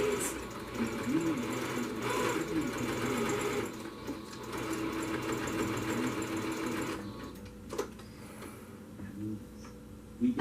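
A sewing machine runs in bursts while zigzag stitching fabric for a homemade medical mask, its motor whirring steadily with brief pauses and stops, fairly quiet and close.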